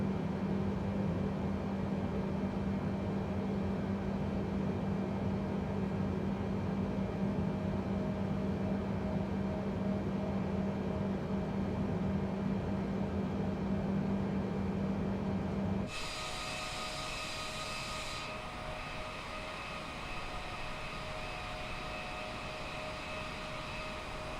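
Boeing 787-10 jet engines taxiing in Microsoft Flight Simulator make a steady, even rumbling drone with a faint high whine; partway through the tone changes, turning thinner and quieter, and then holds steady.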